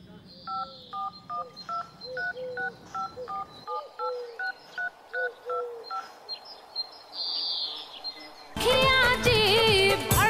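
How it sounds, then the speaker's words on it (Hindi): A phone keypad sends a quick series of short, evenly spaced dialing tones, followed by a brief burst of music near the end. "ऐसा करते हैं दूसरे नंबर पे फोन करते हैं।"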